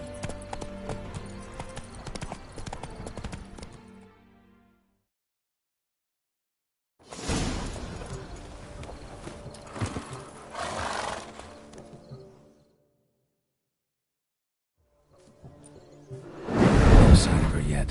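Horse hooves clip-clop during a ride in the Witcher 3 video game, coming in three bursts separated by silence, with game sounds and whinnies mixed in and the last burst loudest.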